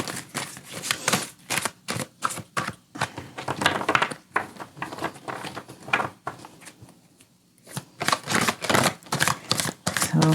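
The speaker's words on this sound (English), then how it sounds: "So if at any time I'm shuffling and it's just taking too long" Tarot cards are shuffled by hand in rapid riffling bursts of dense, papery flutters and snaps, close and continuous with a brief pause midway and no talking.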